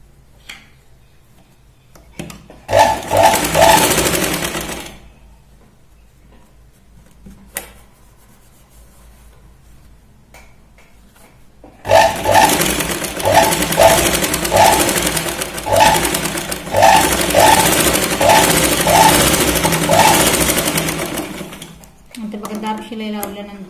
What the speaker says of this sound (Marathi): इथे दाब शिलाई लावून घ्यायची आहे साडीच्या मेन फॅब्रिक वरती